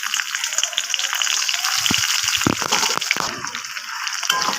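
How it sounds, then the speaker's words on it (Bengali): Capsicum pieces frying lightly in leftover oil in a wok, a steady broad sizzle with sharper spattering bursts and a few brief stirring knocks, close up and loud, with no talk. "সেই তেলের মধ্যে আমি ক্যাপসিকামগুলোকে হালকা করে ভেজে নেবো।"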